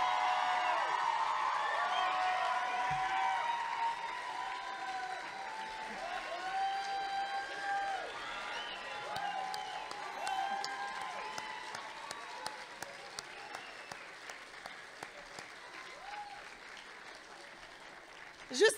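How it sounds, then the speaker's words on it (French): An audience at a regional high-school talent show final in Mauricie claps and cheers for the performers on stage, with whoops and voices over sustained applause that slowly thins to scattered claps. "On les applaudit."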